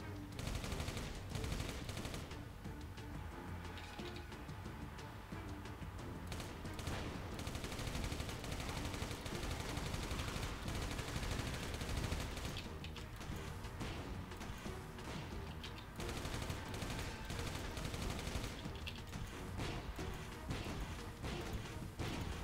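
Dense, continuous gunfire and heavy cannon blasts from the video game Final Exam fill the whole stretch, loud and relentless, with crashing impacts layered over the barrage.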